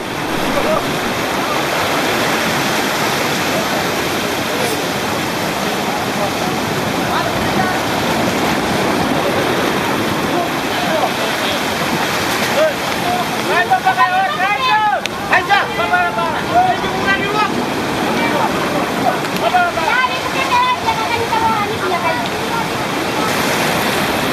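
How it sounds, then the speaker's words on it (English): Waves surge and wash against rocks beside a dinghy in rough coastal conditions, a continuous loud rushing of water with splashing bursts, while people talk over it. "the conditions for boarding the dinghy with the waves trying to smash it against the rocks"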